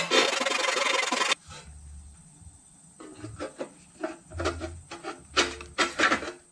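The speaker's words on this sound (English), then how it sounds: "It's a jeweler's jigsaw. It's got a really thin blade." Fine jeweler's jigsaw blade rasping through material in short, quick strokes while cutting parts for a glass blowing kiln, starting with a loud burst of noise and then irregular, close-up cutting bursts.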